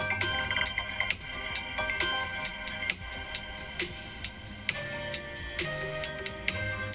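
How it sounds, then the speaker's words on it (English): A bright melodic iOS 26 smartphone ringtone plays on its own, repeating a quick chiming pattern of plucked, bell-like notes at a steady rhythm. "Those new ringtones were actually added in iOS 26 Developer Beta 6"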